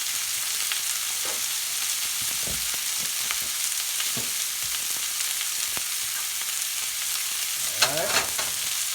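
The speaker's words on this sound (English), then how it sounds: "Give that a couple seconds to sear up real quick, guys." Lobster for a spicy honey garlic dish sears in a hot pan with a steady close sizzle and crackle, broken by a few light clinks and stirring scrapes.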